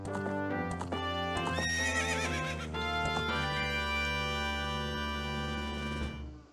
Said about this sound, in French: Donc on a le cheval du jeu, c'est génial.